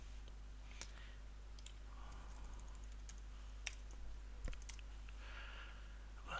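Typing on a computer keyboard: scattered, faint key clicks at an irregular pace over a steady low electrical hum, with a slightly louder cluster of taps near the middle.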